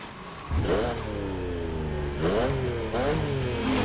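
A BMW M4 engine in the racing game The Crew Motorfest revs up repeatedly, pitch climbing and dropping through gear shifts, a sporty roar rising in bursts over a steady drone.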